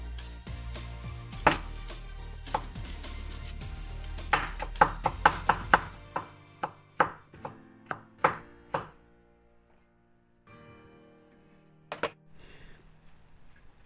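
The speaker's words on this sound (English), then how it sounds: "Cut small pieces like this." A knife chops vegetables into small pieces on a board, a run of sharp, close taps, at first fast and clustered, then spaced out and slowing, with a pause before one last chop.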